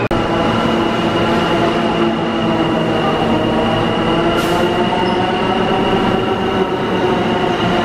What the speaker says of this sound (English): So our train is coming.